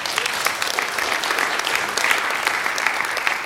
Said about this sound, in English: this deserves an applause or something like that.